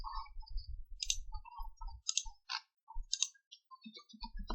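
Arrow keys tapped on a computer keyboard while moving between spreadsheet cells, a series of light, close, separate clicks with short gaps, quiet and without speech.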